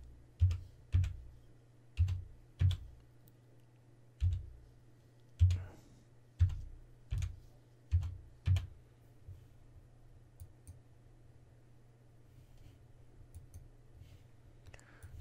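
Typing on a computer keyboard, a sparse series of distinct, fairly loud key clicks spaced irregularly over the first nine seconds, then near silence with faint room hum.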